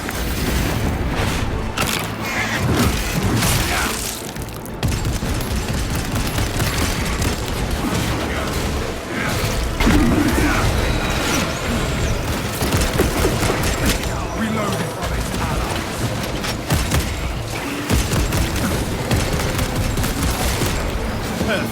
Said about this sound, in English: Deploying crack grenade.